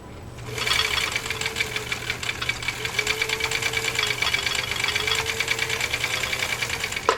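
Husqvarna Viking Type 21 sewing machine running a straight stitch through leather: a loud, rapid, even mechanical chatter with a low motor hum underneath, steady throughout after a brief start.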